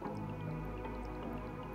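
Liquid poured over a plant in the co-op puzzle game We Were Here Together, heard as a short, steady watery dripping and squishing, close and continuous, with no talk over it.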